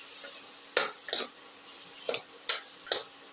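Tomato pieces being sautéed and stirred in a pan for a chicken potato rice soup casserole, a steady faint sizzle broken by five or six scraping stirs of a utensil against the pan, with no voices.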